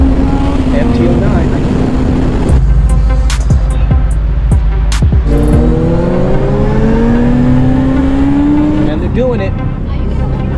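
A Yamaha MT-09 street fighter motorcycle engine while riding, loud and close, its pitch climbing through the revs with gear changes and a steady rush of wind, with some talking over it.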